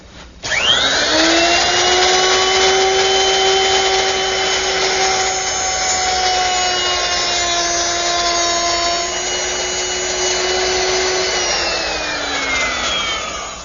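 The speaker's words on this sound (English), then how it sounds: "easy to make that groove using a router with a 1/4-inch round nose bit and a guide fence" A router with a quarter-inch round nose bit and guide fence whines steadily cutting a groove in wood, its high motor tone holding through a long continuous pass before winding down near the end; no talking.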